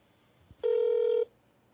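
A telephone gives a single steady electronic ring tone for about half a second, clear and close, followed by quiet.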